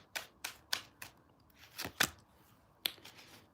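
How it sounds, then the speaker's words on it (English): Tarot cards being shuffled by hand: a series of sharp riffling snaps and slaps in uneven bursts, close and clear, with no talking. "I'm gonna shuffle."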